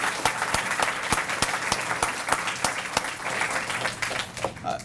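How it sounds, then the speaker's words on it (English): Audience at an elementary school D.A.R.E. graduation ceremony applauds an officer, sustained clapping from many hands with a few sharp individual claps standing out, fading slightly at the end. "let's give Officer Sherritt a round of applause"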